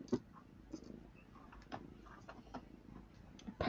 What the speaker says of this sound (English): Purring so loud.